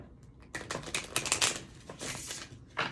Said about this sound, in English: I love shuffling cards.